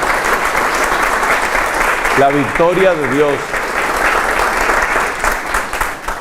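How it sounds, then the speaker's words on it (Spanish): Audience applause at a Catholic talk, steady clapping from a crowd filling the whole stretch, with a speaker's voice rising over it partway through. "un aplauso de amor para ella, que muestra la victoria de Dios."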